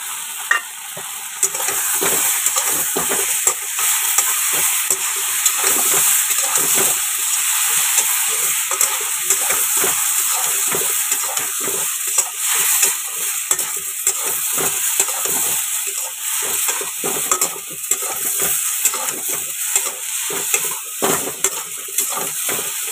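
Spices frying with soybean chunks and vegetables in a pan, a continuous sizzle broken by frequent scraping and tapping of a spoon against the pan, close and fairly loud, with no speech.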